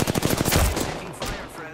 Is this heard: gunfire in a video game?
yes